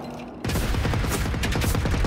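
Explosion and a burst of gunfire in the shooter game Generation Zero: after a quiet moment a loud blast breaks in, followed by sustained, dense rapid shots and crackling that fill the rest of the moment.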